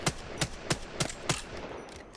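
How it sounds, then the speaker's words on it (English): Apex Legends weapon fitted with an anvil receiver firing in-game, five evenly spaced heavy single shots at a slow measured pace, moderately quiet with no talk. "we're going to put the anvil receiver on and see how that makes a difference. So we're going to shoot at the same target here"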